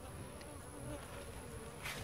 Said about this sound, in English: Check out the bees.